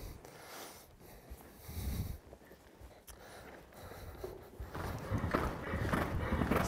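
A showjumping horse canters around an arena with its rider keeping a big, forward pace. Soft hoofbeats thud irregularly amid broadband outdoor noise that grows louder toward the end.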